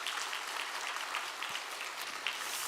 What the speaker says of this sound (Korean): 우리 박수로 격려하도록 하겠습니다